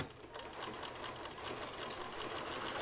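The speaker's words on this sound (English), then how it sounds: "So we're going to do a lock stitch in place, and then keeping the edge of the fabric right in the center guide of our" Sewing machine running a satin lock stitch on fabric, a fast rapid-fire mechanical chatter with steady pulsing, close but quiet.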